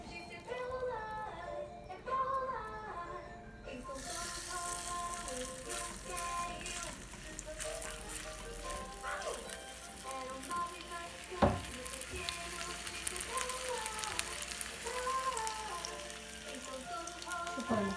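A homemade hamburger patty sizzles and fries in a hot pan, a steady crackling hiss that runs throughout with brief spikes, while music plays in the background.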